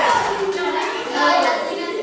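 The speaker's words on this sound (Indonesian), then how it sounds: "Ayo semuanya berdiri. Kita kasih tepuk salut." A standing group of children does a tepuk salut clapping routine in class, with quick rhythmic claps that are close and loud, mixed with young voices.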